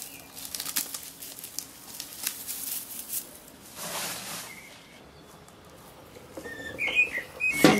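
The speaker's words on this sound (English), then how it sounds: "The birds." Outdoor birds chirp and whistle intermittently in a garden setting, with short bright calls scattered throughout and a louder cluster of whistles near the end, no talking.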